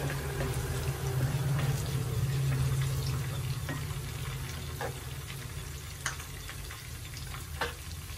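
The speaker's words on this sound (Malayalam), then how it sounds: "കറിവേപ്പില ഇട്ടു നന്നായിട്ട് മൂത്തോട്ട് എല്ലാം നന്നായിട്ട് മൂക്കണം" Curry leaves crackle and sizzle in hot oil for an Ayala mulaku curry, with a steady close frying hiss, a few sharper pops and a brief stir partway through, and no talk.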